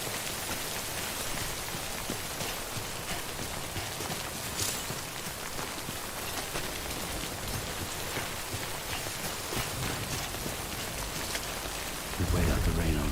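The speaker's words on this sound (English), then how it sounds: "Wait out the rain over there." Steady rain in the video game The Dishwasher Saga, a dense, even hiss that holds throughout and swells louder in the last second.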